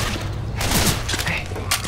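Gunfire from the video game Left 4 Dead 2 on the Dead Center campaign: loud, dense bursts of shots that run through the whole stretch, with booming low thuds beneath.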